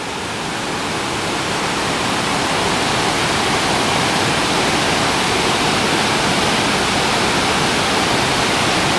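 Iguazu Falls in Argentina's national park pours in a steady, loud, broadband roar of rushing water that holds unchanged throughout, with no voices over it.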